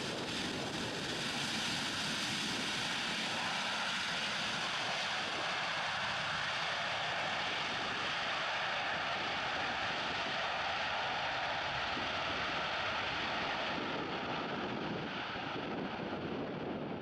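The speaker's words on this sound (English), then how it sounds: "This is a FedEx McDonnell Douglas DC-10, a wide-body cargo aircraft built like a tank" A FedEx McDonnell Douglas DC-10 wide-body cargo jet lands in a crosswind, its engines giving a steady, loud broadband roar mixed with wind buffeting on the microphone throughout.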